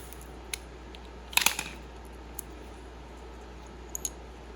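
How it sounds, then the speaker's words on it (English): Old valve cover grommet on a 2004 Honda Civic being cut off, heard as a brief cluster of crisp snips and clicks, then a few faint isolated clicks in a quiet garage. "Cut the old one off"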